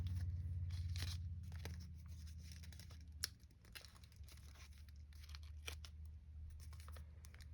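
Paper being folded into a Ballista jet paper airplane, with quiet crinkling, creasing and rustling taps close up, faint and intermittent against a low background hum.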